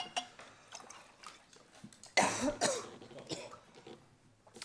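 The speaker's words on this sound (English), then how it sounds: "Hang on, I'm going to cough." A single loud, harsh cough bursts out close by during a meeting, with quieter rustling and faint background noise before and after.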